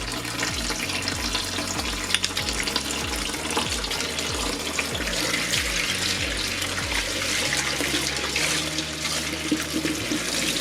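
Running water pours steadily from a tap, with splashing and gurgling as yarn is rinsed beneath it, close and continuous.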